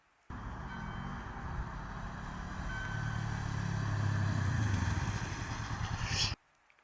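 A motorcycle engine runs close and steady for several seconds during an emergency braking exercise on a licence test, the tone shifting before it cuts off abruptly.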